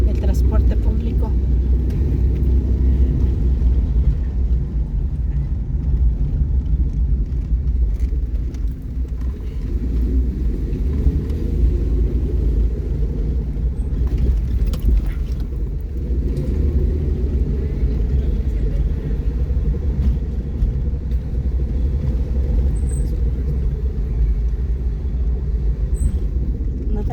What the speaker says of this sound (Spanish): Mira, el transporte público.